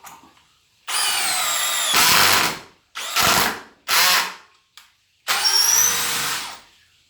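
A DeWalt Xtreme 12V cordless drill whines in several bursts, revving up and stopping, with a long steady run as it drives a 4-inch square-drive deck screw, then shorter pulses to finish.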